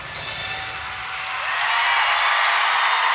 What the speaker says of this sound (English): The crowd has erupted.